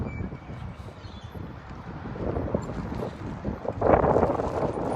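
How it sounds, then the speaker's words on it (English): Strong wind sweeps across an outdoor lawn bowls green, rumbling against the microphone in uneven gusts that swell louder toward the end. "As you can see from Paul's shirt there, it's quite windy."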